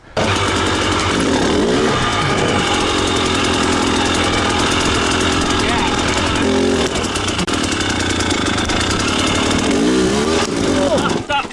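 A KTM 300 XCW two-stroke dirt bike engine drones loud and close, with a few sharp throttle blips rising over the steady running. A voice is faintly buried under the engine noise.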